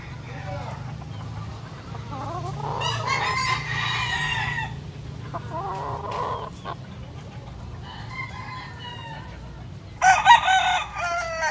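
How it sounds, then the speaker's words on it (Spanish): Hens cluck in short bursts around a farmyard, and a rooster crows loudly near the end, with faint background noise throughout. "Estos pollos están adelantados."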